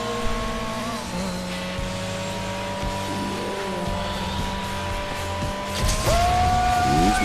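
Race car in a driving video game firing its nitrous boost near the finish, a steady engine whine running throughout that rises in pitch and swells louder toward the end.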